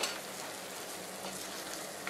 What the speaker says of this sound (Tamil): நல்லா வந்து பச்சை வாசம் போகிற வரைக்கும் நல்லா வதக்கிக்கணும்